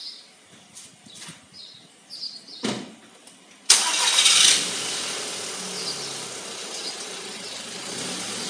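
A car engine cranks and catches after a few faint clicks and handling noises, then settles into a steady idle close by, with no talking.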